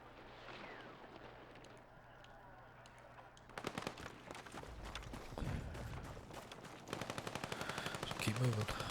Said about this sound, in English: It's the light machine gun.